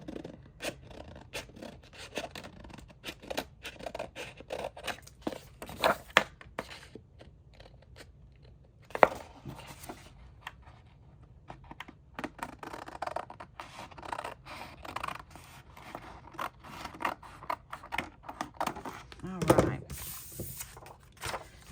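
Large scissors chop through 12x12 scrapbook paper in a long series of crisp snips and crunchy cuts, close and fairly quiet, with occasional rustling of the sheet.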